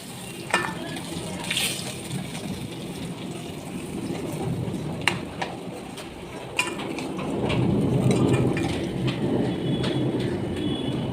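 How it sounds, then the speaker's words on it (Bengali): Pieces of bhetki fish fry in hot oil with a dense, rain-like crackle and sizzle, close and continuous, with a few sharp ticks and a louder surge near the end. "মাছগুলো ভেজে তুলছি।"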